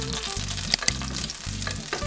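Butter with a splash of oil sizzling and frying in a pan, close and continuous, with a few clinks and stirring scrapes, no talk.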